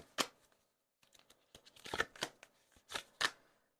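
Tarot cards riffled and shuffled in quick bursts of crisp, close flutters and snaps, with brief pauses between, no voices.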